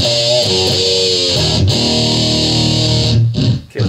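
A ZVex Box of Metal distortion pedal on electric guitar, heavy saturated high-gain chords ringing loud and sustained, then choked off near the end, with no talking.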